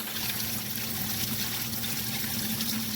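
Hot water pours from a bucket into a sump pit with a frozen pump pipe, a continuous splashing, trickling rush held steady throughout, close and fairly loud over a low electrical hum, with no talking.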